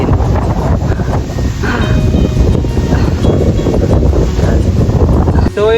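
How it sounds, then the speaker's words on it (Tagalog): Strong wind buffets the microphone in a continuous loud roar throughout, with faint voices barely audible underneath. "yung malakas na hangin."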